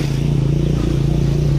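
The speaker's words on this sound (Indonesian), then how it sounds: "kita akan uji coba performa pada motor Supra X125 yang habis turun mesin" A Honda Supra X125 motorcycle engine, freshly overhauled with connecting rod and bearings replaced, runs loud and close in a steady, throbbing idle with a slight mechanical clatter, with no voices.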